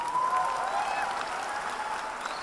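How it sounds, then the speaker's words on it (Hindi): An audience at a motivational seminar applauds, a steady wash of many hands clapping at moderate distance, holding evenly for a couple of seconds. "यहां खड़े होकर लोग ताली बजा रहे हैं"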